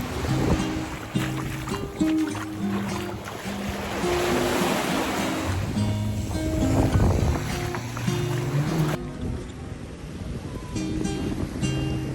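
Ocean surf rolls onto a beach on Vieques, Puerto Rico, a steady broad wash of waves with gusting wind that thins out after about nine seconds.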